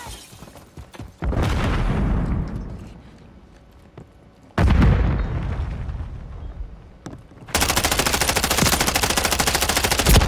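Grenade blasts and automatic gunfire in a Modern Warfare 3 team deathmatch with an MTZ 556 rifle: two loud booming explosions with long rumbling decays, then a sustained burst of rapid rifle fire close by.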